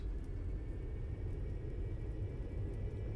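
A Cessna Citation S550 jet in X-Plane 11 lands with thrust reversers deployed, producing a steady low roar and rumble, constant and fairly quiet with no voices.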